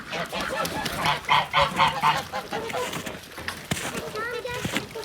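Several geese on a farm honk in quick bursts, close by and fairly loud, while a person calls out in Turkish over them.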